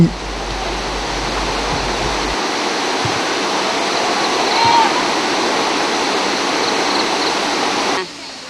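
A waterfall in Laos roars as a steady, dense rush of falling water, loud and close, continuous throughout with a brief low rumble at the start.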